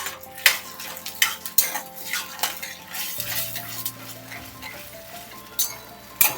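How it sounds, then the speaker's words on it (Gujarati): Shredded cabbage sautés in a pan for Bombay tawa bhaji while a utensil stirs it, giving sharp metallic clinks and scrapes over a soft, steady sizzle, close and without talk. "એકદમ મિક્સ કરી હલાવી દેવાનું છે."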